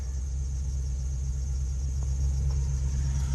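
A 2021 Ford Econoline E-350 Super Duty box truck engine idles with a low, steady rumble and a constant hum, with no voices.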